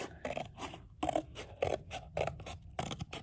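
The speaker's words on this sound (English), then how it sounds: "we're going to take it and then we're just going to cut" Scissors cut a paper plate for a jellyfish craft, making about ten rhythmic crunchy snips in quick succession. Close, crisp and steady, with no voices.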